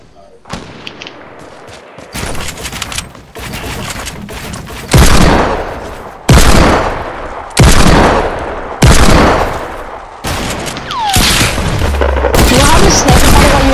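In a shooter video game, loud gunfire and explosions go off close by as a series of heavy, booming blasts, about eight of them in irregular bursts, with rapid shots between the booms.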